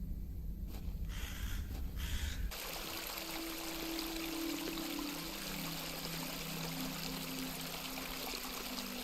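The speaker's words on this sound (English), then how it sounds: "I do enjoy the charm of a babbling beck." A babbling stream of water trickles and pours steadily in the video game The Excavation of Hob's Barrow, a continuous close watery burble, after a brief quieter opening.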